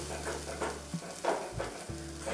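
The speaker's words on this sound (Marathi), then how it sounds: "तर इथे हा मसाला आपण व्यवस्थित परतून घेणार आहोत" Masala sautéing in a pan for a village-style abai bean curry, giving a soft close sizzle with a few light stirring scrapes and a low steady hum beneath.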